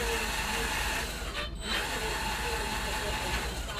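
A 360 kV brushless drive motor with a 16:1 gearbox for an R2D2 build runs with a dense, steady whirring hiss, close and even, with a brief dip midway.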